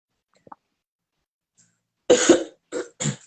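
Three harsh coughs in quick succession close to the microphone, after a short stretch of near silence with a faint click.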